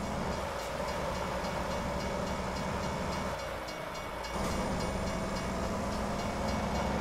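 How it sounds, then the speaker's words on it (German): A freight train rolls past a truck at a rail crossing in American Truck Simulator, a steady loud rumble with rattling wagons that dips briefly and then swells again close by. "So wie sich anhört, kommt hier auch noch ein Zug."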